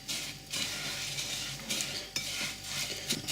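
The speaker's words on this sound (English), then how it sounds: "Stir the chocolate in." A spoon works biscuits through melted chocolate in a bowl for a no-bake Malteser cake, a close scraping and clinking stir in uneven strokes with faint crackly rustling and no voices.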